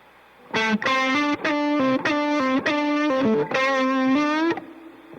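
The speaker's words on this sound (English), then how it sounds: "this tube screamer on, and kind of like play a phrase with it" An electric guitar through a Tube Screamer overdrive pedal plays a short sustained phrase of distorted notes, loud and close, with no voices.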